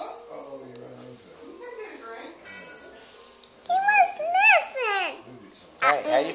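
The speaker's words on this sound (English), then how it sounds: "He's a baby Boston, though. He's a puppy." A Boston terrier puppy lets out high, whiny yips and short squeaky barks in quick bursts toward the end, with people talking beforehand and in between.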